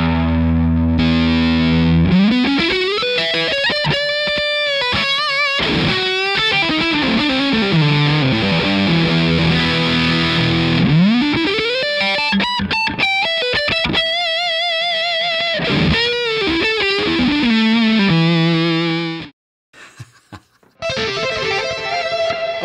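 An electric guitar plays through the drive channel of a DBD Drive Boost Delay pedal with its gain turned well down, producing loud, mildly overdriven sustained notes, bends and phrases with brief pauses, ending in a short gap and a few final stabs.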